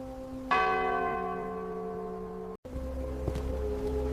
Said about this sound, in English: Then the village bell rang.